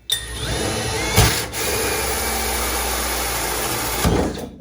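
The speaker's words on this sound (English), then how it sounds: "This is a 1 7/8 inch one-piece hole saw." A one-piece 1 7/8 inch hole saw cuts through fiberglass, making a steady close grinding whine that runs for about four seconds, with brief loud catches near the start and end, and no talking.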